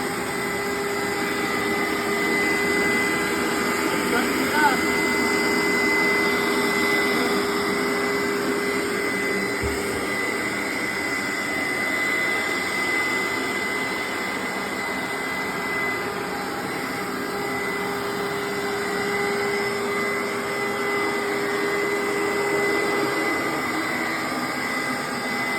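A Hoover SteamVac Dual V carpet cleaner runs continuously nearby, a loud steady motor whine with high tonal hum and suction roar, one brief thump partway through.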